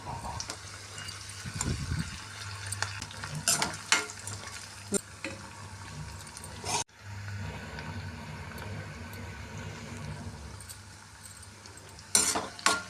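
Salted onions fry in oil in a pan for a curry, a continuous close sizzle with intermittent clattering stirs and a brief break midway.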